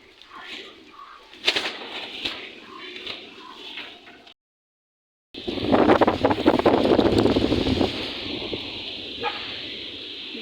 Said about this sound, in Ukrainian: Така сувора і вітряна погода.